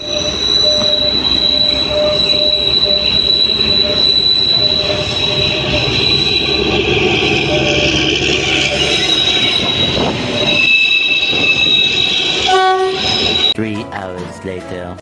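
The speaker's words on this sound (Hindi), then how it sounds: "अभी ऊपर पहुँची और ट्रेन भी आ गई" A train passing on a railway track close by, loud throughout with long metallic wheel squeals and a rumbling roar, ending in shorter harsh screeches, while people talk faintly in the background.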